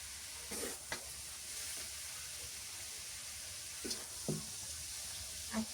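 Vegetable bhaji sizzling steadily in a hot pan on a winter morning, with a few soft scrapes and clinks of a spatula stirring it; a continuous low frying hiss with no talk.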